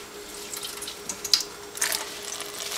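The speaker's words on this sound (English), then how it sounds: "I'm going to put it in a colander to rinse it off" Dyed silk yarn rinsed in a colander under a running tap: a soft, steady trickle of water with a few faint drips and splashes, close and quiet, no voices.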